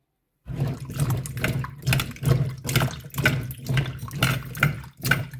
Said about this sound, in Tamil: நான் இப்போ 2-3 தண்ணியில் கழுவி எடுக்கணும்.